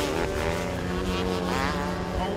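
Open-wheel go-karts racing at a speedway, a loud, continuous, buzzing engine whine from several karts close together, with pitch rising and falling as they run side by side.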